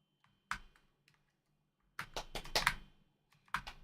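Typing on a computer keyboard while setting a hotkey, with scattered single key presses and then a quick flurry of clacky strokes, close and crisp against near silence.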